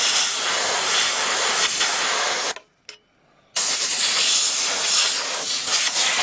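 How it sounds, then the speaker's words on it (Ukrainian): Compressed air from an air compressor hisses loudly and steadily, blowing dust off a Honda CB 500 motorcycle during an oil change. The broad blast cuts out briefly near the middle, then resumes just as strongly. "Ми, звичайно, обдуємо то все компресором. Обдуваємо гарно."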